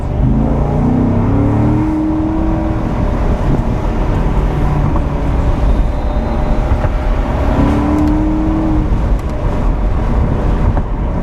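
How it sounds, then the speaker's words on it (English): A 2015 Corvette Stingray Convertible's engine pulls hard under acceleration from inside the cabin, a loud steady roar with rising tones at the start and again near the end, over constant wind rush. "But when I accelerate, it stays in the gear until I hit the paddle."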